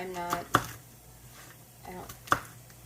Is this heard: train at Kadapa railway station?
no